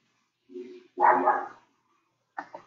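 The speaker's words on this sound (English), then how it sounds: "There's my dog." A dog barks a few times close by, a short yip, then a louder bark, then a couple of quick sharp barks, with quiet gaps between.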